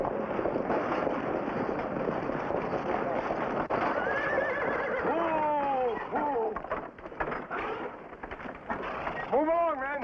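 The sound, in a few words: horses neighing and hooves clopping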